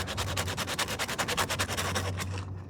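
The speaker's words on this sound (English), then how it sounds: "So we'll try sanding dry first, and then adding water if necessary." Steady, rhythmic dry sanding of rust on a Ford Focus Mk2 car body, a coarse scraping stroke repeated quickly back and forth, close and fairly loud, trailing off at the end.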